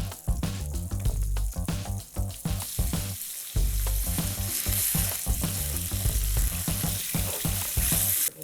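Bacon sizzles and spits steadily in a frying pan greased with lard, a dense crackling fry that runs without pause, with no voices over it.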